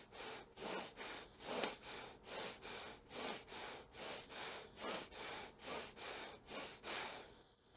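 Fast, forceful breathwork exhalations through the nose, a steady rhythmic series of about a dozen close, hissing puffs in even succession with no talking.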